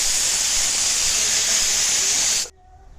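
A kitchen pressure cooker cooking eggs with salt and turmeric for a mutta roast, giving a loud, continuous steam hiss that cuts off abruptly near the end, leaving near silence.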